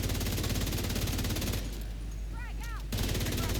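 Machine gun fire from enemy machine gunners in the video game The Division 2, loud sustained rapid bursts that break off briefly before resuming, with whistling and chirping tones during the pause.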